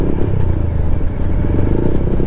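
Steady, loud engine drone of a KTM Duke 200 BS6 motorcycle being ridden on the road on a bike trip. It runs continuously close by with some rattle and wind, and no talk.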